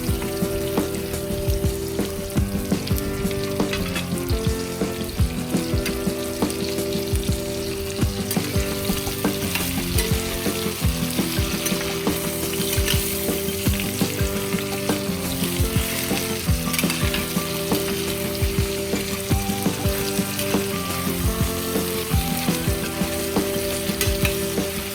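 Sponge gourd (patola) sizzling steadily in a hot pan for a sauté, a loud, continuous frying crackle with frequent stirring clatter and no talking.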